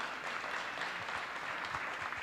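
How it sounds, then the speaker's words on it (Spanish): A live audience at a talk-show night gives continuous, fairly close applause for footballer Maxi Rodríguez, with dense clapping sustained evenly throughout. "aplauso para Maxi"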